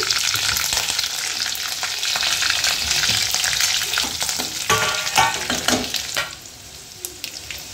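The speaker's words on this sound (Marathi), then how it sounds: "मोहरी आपल्याला चांगली तडकू द्यायची आहे। नंतर आपण कढीपत्ता टाकूयात आणि मग हिरवी मिरची थोडीशी।" Mustard seeds crackle and splutter in hot oil with curry leaves and green chili added, a loud, busy frying hiss with sharp pops and stirring scrapes, easing somewhat toward the end.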